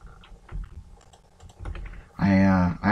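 Keys clatter on a new computer keyboard in a steady run of close, light clicks, then a voice cuts in loudly at the end.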